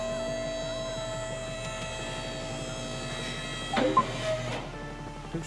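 An electric car lift in Car Mechanic Simulator 2026 raises a car with a steady mechanical hum and whine, a few clunks near the end as it reaches its top position.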